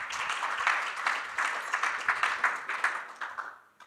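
An audience claps at a forest and wildlife panel discussion at a German hunting association conference, a steady wash of many hands that gradually thins and fades out.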